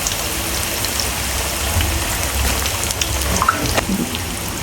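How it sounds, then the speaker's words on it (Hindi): Samosas fry in oil over normal heat with a steady, dense sizzle and crackle that sounds close and continuous, with a few sharper pops and no talking. "नॉर्मल हीट पे इसको फ्राई करना होता है, तेज़ हीट पे फ्राई नहीं करना होता है इन समोसों को"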